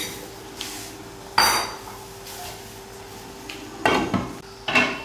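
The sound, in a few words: eggs being mixed into potato curry in a pot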